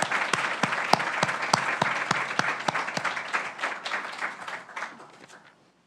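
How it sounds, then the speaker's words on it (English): A room of faculty members and guests applauding colleagues being recognized for promotion at a university awards and promotion celebration, with a few sharp nearby claps standing out over dense crowd clapping that fades out near the end. "let's give them all a round of applause for promotion"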